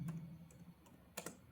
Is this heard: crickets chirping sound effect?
no